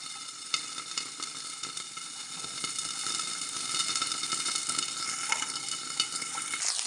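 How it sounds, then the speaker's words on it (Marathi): Green peas cook in oil in a covered pan over a low gas flame, giving a soft, steady, close sizzle that holds evenly throughout. "गॅस मंद आचेवर आपण हे वाटाणे हे शिजवत आहोत"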